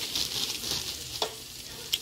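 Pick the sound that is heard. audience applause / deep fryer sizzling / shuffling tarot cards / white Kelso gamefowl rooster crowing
deep fryer sizzling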